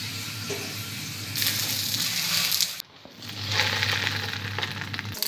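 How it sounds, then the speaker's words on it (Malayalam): Fish wrapped in banana leaf frying in coconut oil in a hot pan gives a steady, close sizzle that swells louder and briefly drops away before hissing on again. "പാൻ ചൂടായ ശേഷം കുറച്ച് വെളിച്ചെണ്ണ ഒഴിച്ചിട്ട് ഇലയിൽ കെട്ടി"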